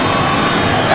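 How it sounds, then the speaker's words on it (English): A dense, steady roar from a crowd gathering at Belmore Sports Ground for a Friday night 1990 NSWRL rugby league match, Bulldogs versus Eels, continuous and fairly loud throughout the moment. "A good crowd building here at the Belmore Sports Ground for Friday night football."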